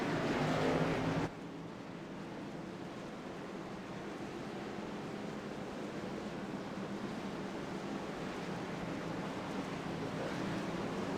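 NASCAR trucks circle behind the pace car at Martinsville, making a steady, distant engine drone that dips abruptly early on and then slowly swells as the field rolls around, with no clear talk.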